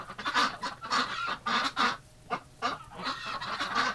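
A flock of Muscovy ducks calls outdoors in winter, giving repeated honking, hissing calls in an uneven rhythm, fairly close and moderately loud, with no talk over them.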